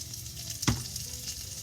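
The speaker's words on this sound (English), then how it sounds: "I'm just going to stir it here to make sure that the squash gets coated with some oil." Butternut squash cubes being stirred in oil in a soup pot, a low sizzle with one brief scraping swish of the spoon midway, close and quiet.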